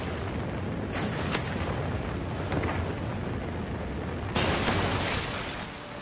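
Trinity rocket strike explosions in Call of Duty Ghosts make a sustained loud rumbling roar with two sharper bursts, one early and a stronger one near the end.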